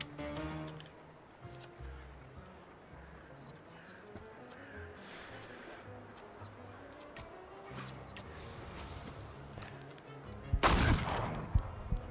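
A burst of gunshots from The Thaumaturge video game cracks out near the end, loud and close over a busy bed of game music and ambience.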